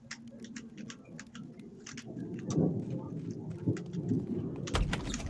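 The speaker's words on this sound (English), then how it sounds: "You guys hear that thunder?" Thunder rolls in the video game Pathologic as a faint, distant low rumble. It swells midway under light pattering, crackling ambience, with no voices.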